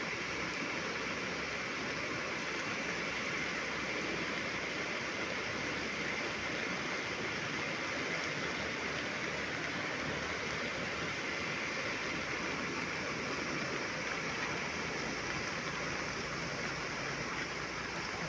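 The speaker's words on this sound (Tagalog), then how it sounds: "lakas ng lagas-las sa kanal." Heavy rain pours and water rushes through a canal in a continuous, dense roar that holds steady throughout, close and with no voices.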